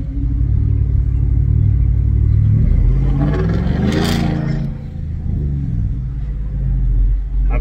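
Racing cars pull away from a traffic light at a car meet, engines revving and rising in pitch, with one loud car surging past mid-clip before a steady engine rumble carries on.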